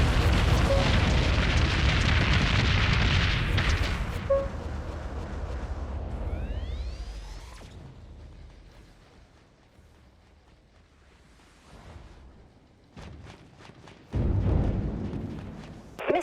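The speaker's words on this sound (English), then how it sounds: "Enemy missiles incoming, Captain. We've been hit hard." Enemy missiles striking a dreadnought warship in a space combat video game, a heavy rumbling blast that decays slowly into quiet, followed by scattered sharper impacts and a second loud burst near the end.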